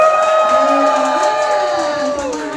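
A big party crowd at a New Year's Eve event cheers and shouts together in one loud, sustained burst, voices blending into a continuous roar.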